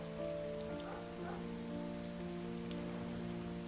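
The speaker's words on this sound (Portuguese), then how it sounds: "E sempre na chuva pesada, né? Sempre caindo um toró." Heavy rain falling steadily in the video game Heavy Rain, a constant dense patter on surfaces under a faint low background hum, with no voices.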